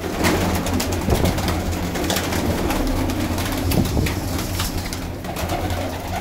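Pigeons from a flock of high-flying birds in Lahore coo steadily and close by, layered with fluttering and rustling against a constant low background hum; no one speaks.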